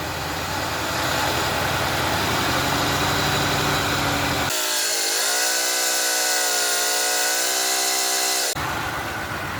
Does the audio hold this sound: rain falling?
no